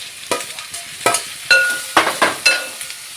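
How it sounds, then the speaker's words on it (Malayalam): Onions sautéing in oil with salt for a Kerala-style beef curry, heard as a series of about eight sharp spatula scrapes and stirs over a faint, intermittent sizzle. "നമുക്ക് സവാള ഇട്ട് നന്നായിട്ട് വഴട്ടാം"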